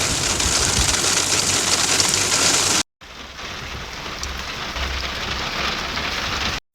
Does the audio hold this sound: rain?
yes